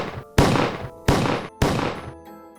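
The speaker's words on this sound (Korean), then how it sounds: "공기를 찢는 듯한 4발의 총성이 울립니다" Sharp gunshots ring out inside an old-style building in Pyeong-dong, Jongno-gu, in 1949: loud, close reports in quick succession, each trailing off in a long echoing decay.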